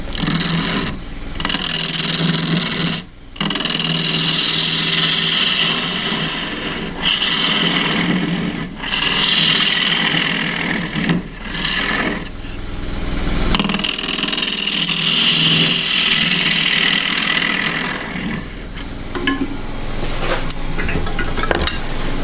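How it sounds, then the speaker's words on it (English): A 3/8 bowl gouge cuts a spinning bark-rim wooden bowl on a lathe, a loud continuous hissing shear with a steady motor hum underneath, broken by a few brief pauses between passes. "3/8 bowl gouge."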